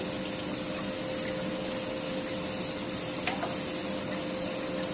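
Shing catfish frying in a pan while cooked with radish, giving a steady, dense sizzle and bubbling hiss throughout with a faint scrape partway, no talk over it.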